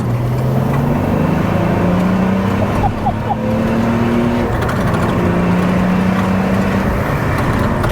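An M57 diesel-swapped BMW E46 Compact accelerates hard, its engine note climbing through the revs in loud, rising pulls with brief shifts, with some cabin noise underneath.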